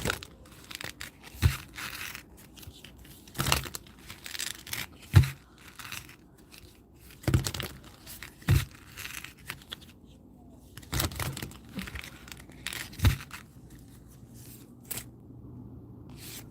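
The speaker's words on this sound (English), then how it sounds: "So we're going to pull a law of attraction card here as well." A law of attraction card deck is shuffled and handled in bursts of crisp card riffles and snaps, with soft rustling and quiet pauses between them and no talking.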